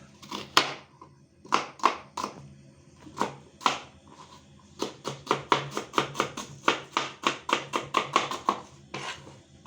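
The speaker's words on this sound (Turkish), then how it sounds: "Arkadaşlar soğanımızı ince ince ince doğrayacağız." Rapid knife chopping of onion finely on a cutting board, close and crisp, with sharp taps in quick irregular bursts and short pauses between runs.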